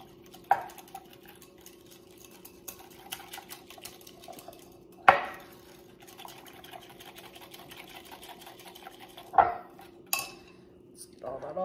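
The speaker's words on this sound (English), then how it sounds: "Let's go ahead and whisk that together." Apple pie spice being whisked into a fruit salad mixture in a bowl, a quiet steady clinking and scraping with a few louder knocks of the whisk against the bowl rim.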